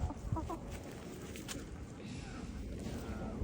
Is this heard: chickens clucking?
yes